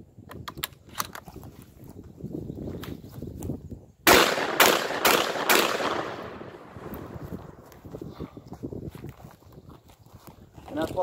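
A Beretta 1301 Tactical semi-automatic shotgun fires four quick, loud, close blasts in a tight burst, each crack followed by a ringing decay, with talking before and after the volley.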